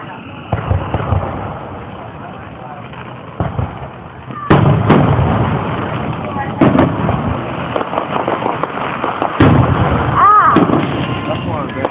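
Fourth of July fireworks in Porterdale, 2011: several heavy booms and crackling bursts, some distant and some louder, with people chatting between the explosions.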